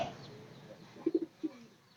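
A few soft, low pigeon coos in a short cluster, then one more after a brief pause, over quiet outdoor background.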